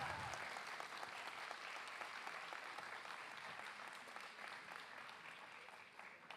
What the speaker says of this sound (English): Dr. Kirti, I think he receives a big round of applause